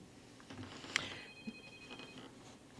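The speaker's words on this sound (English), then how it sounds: "Okay, so I'm hearing the phone ringing," A telephone rings faintly in a radio studio: a brief electronic ring over low room noise, with no talk.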